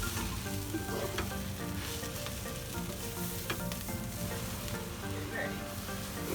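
Green chillies and spice powders sautéing in oil for Kerala-style chicken curry, a loud, dense, steady sizzle heard up close, with occasional light stirring scrapes and no speech.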